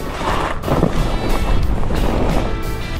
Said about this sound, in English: It's a little bit windy at the moment.